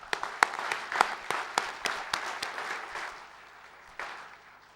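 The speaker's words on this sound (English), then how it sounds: "let us give them a warm round of applause" Quiet, scattered applause at a university convocation ceremony, individual claps standing out in a loose rhythm that thins and fades over a few seconds in a large hall.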